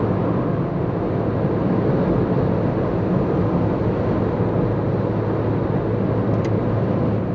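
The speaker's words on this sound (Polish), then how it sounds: "słyszymy już silnik pracujący pod maską" A Peugeot 306 more than 20 years old drives at steady speed, its engine a constant low drone under broad road and cabin noise, even and unbroken throughout.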